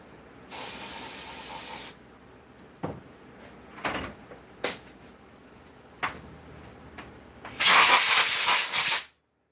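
Two long bursts of spray hiss from rinsing out a race saw, the first about a second and a half and the second near the end, with softer clicks and knocks between them; no talking.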